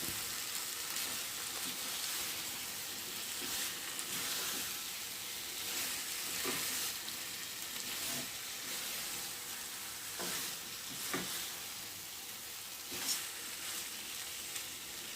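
A gentle, steady sizzle from a pan as a spoon slowly stirs Visakhapatnam-style fish curry, with soft scrapes and light clinks throughout.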